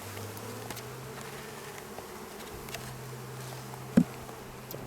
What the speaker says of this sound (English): That high-pitched noise is what they usually do right before they sting you.